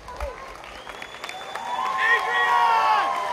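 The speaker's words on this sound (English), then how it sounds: "big round of applause for our boxers in the ring" Applause and crowd noise swelling up from a noisy room at a boxing event, with a voice talking over it as clapping builds toward the end.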